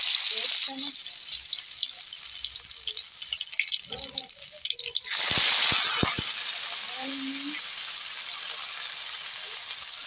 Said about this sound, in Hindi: देखिए घी डाली है। अब हम लहसुन को डालेंगे